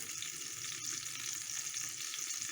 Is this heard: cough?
no